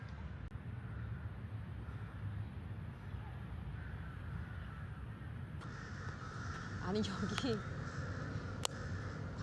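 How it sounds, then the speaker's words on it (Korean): Crows cawing in a park in Bangkok, a few harsh calls rising over steady outdoor background noise, with a person speaking briefly. "파크 이름이 까마귀 파크 아니야? 까마귀 파크로 바꿔야 되는 거 아니야?"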